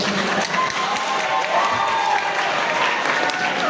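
An audience at a student presidential campaign debate at a Nairobi college campus claps and cheers steadily, dense applause with some voices mixed in throughout.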